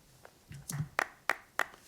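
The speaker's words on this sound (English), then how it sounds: "So just 3 takes of just quarter note claps" Hand claps recorded as quarter notes in a studio drum session: four short, sharp claps at an even pulse, faint and dry, with a soft thump just before them.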